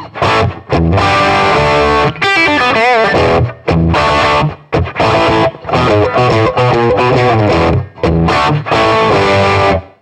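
An electric guitar played through a Roland Blues Cube Hot 30W tube-logic combo amp turned up to a loud, cranked, distorted setting. It plays chords and riffs in bursts separated by short pauses, dense and close with no voice.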